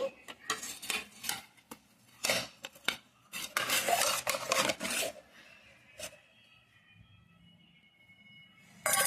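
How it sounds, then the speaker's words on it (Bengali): Fish and potato bati chorchori is poured from a pot into a dish, with bursts of spoon and metal scraping and clinking in the first half, then a quiet pause before one last clatter. "এখন আমি ঢেলে দেখাচ্ছি"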